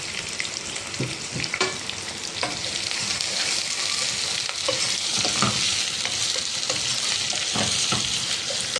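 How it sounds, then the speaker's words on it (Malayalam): Crushed ginger, curry leaves, garlic and green chillies sauté in hot oil with a steady close sizzle, while a spoon stirs and scrapes in repeated soft knocks throughout. "ഒരു കഷ്ണം ഇഞ്ചി ചതച്ചത്, കുറച്ച് കറിവേപ്പില, ഒരു 5-6 അല്ലി വെളുത്തുള്ളി ചതച്ചത്, 3 പച്ചമുളക് ഇതും കൂടെ ഇട്ട് വഴറ്റിയെടുക്കാം."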